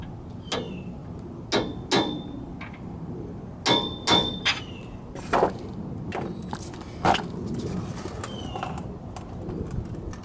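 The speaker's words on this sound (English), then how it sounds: "Get your socket and hammer it in a little bit." Metal clangs ring out as a hammer drives a socket against a front wheel bearing on a 1997 Ford F-150, about seven sharp struck hits in uneven groups, with bird coos and chirps in the background.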